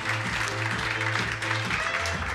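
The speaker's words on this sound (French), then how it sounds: "qu'on peut applaudir, s'il vous plaît" Audience at a corporate conference applauding speakers on stage, a short burst of dense clapping running underneath a steady low hum and some faint talk.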